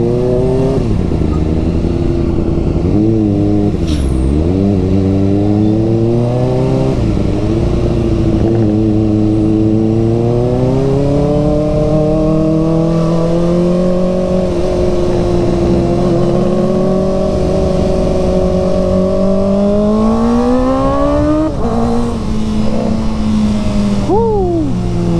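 A 2023 Honda ADV 160 scooter engine revs continuously and loudly up close, its pitch climbing and falling through repeated throttle blips over a steady drone, with a sharp high rev spike near the end.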